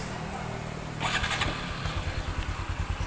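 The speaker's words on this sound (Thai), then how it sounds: "พูดถึงเสียงท่อเดี๋ยวเราสตาร์ทให้ฟังเลย" A 2021 Honda Wave110i motorcycle engine cranks and catches after a second of background hum, then settles into a throbbing, regular exhaust idle close by.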